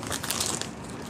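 Plastic cling film being pulled and handled in a kitchen while preparing chicken breast for paillard, a close, steady crinkling and crumpling rustle lasting about a second.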